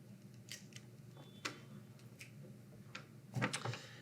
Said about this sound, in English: There's some loose hairs here. I'll just cut those off.